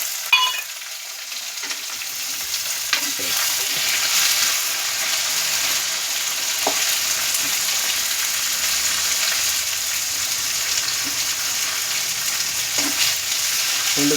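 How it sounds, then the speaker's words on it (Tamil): Onions or masala sautéing in a pan for a tomato curry, a steady close sizzle and fry with occasional stirring scrapes, no talking. "நல்லா வதங்கிக்கிட்டே இருக்கு, வதங்கட்டும்."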